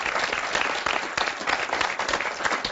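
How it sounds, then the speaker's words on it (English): A studio audience applauds a young Muslim law student with dense, continuous clapping that stays loud and even throughout the short burst. "I want to give a round of applause to Shabana"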